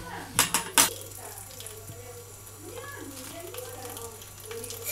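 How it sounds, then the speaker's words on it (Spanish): Chopped onion for guacamole is washed with salt and water in a bowl, giving a few sharp clinks at the start, then soft sloshing and swirling. A voice talks quietly over it. "Echamos un poquito de sal ahí y a lavar."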